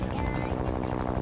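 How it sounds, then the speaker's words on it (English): A helicopter in the Minecraft video game roars loud and close, its rotor throbbing in a fast continuous chop with no pause. "Why did they make the helicopters that loud?"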